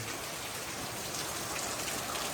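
Rain falling on a corrugated metal roof during a typhoon in the provinces, a dense, even hiss of drops with no pauses, steady and close throughout.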